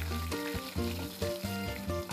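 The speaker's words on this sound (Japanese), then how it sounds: "この揚げる音たまらんな。" Pork cutlet (tonkatsu) deep-frying in oil at 180 degrees at a restaurant, a steady sizzle and crackle running under background music for the whole short stretch.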